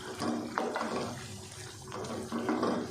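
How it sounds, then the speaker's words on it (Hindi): Water pours into a pot of aloo chicken curry, a short splashing, gurgling stream heard close and fairly faint. "और साथ ही अब इसमें डाल देंगे हम पानी"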